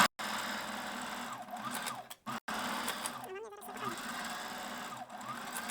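A sewing machine runs steadily, stitching a second line along the wrong side of a boned bust form at a 0.1 setting, with a few brief pauses in the whirring.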